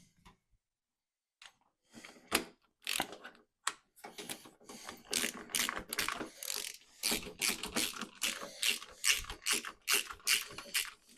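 Ratchet tightening engine mount bolts on a Honda CB1000 Hornet SP in a workshop, sparse clicks at first, then rapid repeated bursts of sharp ratcheting clicks, close and clear, without talk.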